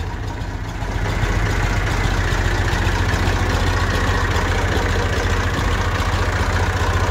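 A Massey Ferguson 135 tractor's steady, rumbling diesel engine idles close by, its low throb constant throughout after a slight rise in level near the start.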